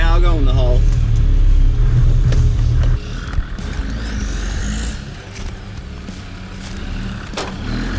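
A short-wheelbase Land Rover Defender 4x4 crawls off-road through a hole. A loud engine rumble is heard up close and then drops away, with people talking over it.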